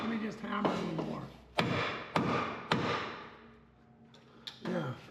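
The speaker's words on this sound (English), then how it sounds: "let me just hammer a little more." A hammer strikes an exhaust header during an installation, three sharp metallic blows at a steady pace followed by a softer fourth, loud and close, with someone talking around them.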